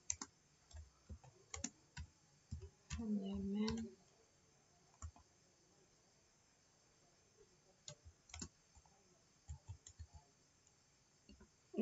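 Sparse keyboard clicks come in short bursts while Java code is typed during a programming practice session, with a brief hum of speech near the start.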